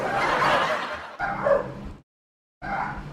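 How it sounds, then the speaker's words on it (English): A dog barks and yips excitedly in close, loud bursts, with two quick runs of barking, a short silence, then another burst. "my dog's going crazy"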